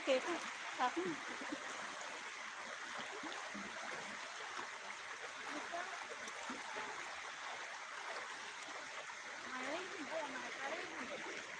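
Steady, soft rushing of a small stream runs continuously, a faint even wash of trickling water with slight gurgling swells and no distinct talk on top.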